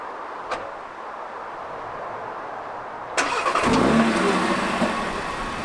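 A car started by a Pandora Storm Plus remote engine start system: a faint click, then a few quiet seconds before the engine cranks, catches, and settles into a steady idle close by.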